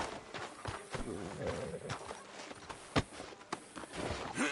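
Horse hooves clip-clop at a walk in the Western video game Red Dead Redemption 2, steady and close under a dense wash of ambient game sound, with voices speaking over it.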